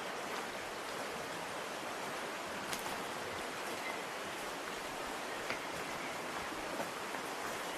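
Water flows through a cave after rain as a steady, broadband rushing that stays even and continuous, with occasional faint drips or splashes.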